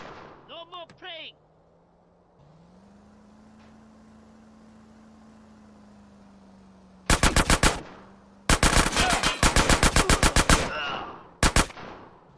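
Bursts of automatic gunfire in GTA San Andreas Definitive Edition, loud and close, come as rapid volleys in the second half after a quieter stretch of engine-like hum. Brief voices are heard near the start.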